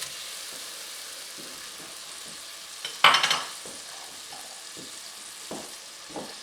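Previously frozen chopped onion dropped into melted butter in a pan, a sudden loud sizzle burst that settles into a quieter steady crackle, with a few faint scrapes and clicks around it, no voices.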